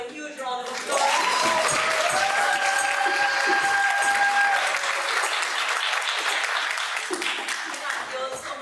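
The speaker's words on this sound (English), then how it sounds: "Guys, I want to ask a huge round of applause." Big, loud round of applause from a forum audience after a panel discussion, sustained dense clapping with some cheering and voices mixed in throughout.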